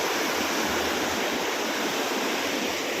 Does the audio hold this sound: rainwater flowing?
yes